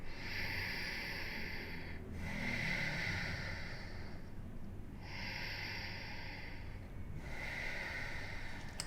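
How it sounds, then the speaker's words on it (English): Slow, deep breathing during a seated yoga twist: audible inhales and exhales in a steady rhythm, close and soft, with about four breaths and no talking. "Deep breaths."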